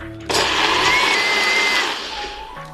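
A blender whirs loudly as it purées a smoky, spicy hot sauce, a steady motor roar that starts abruptly, holds for about a second and a half, then winds down.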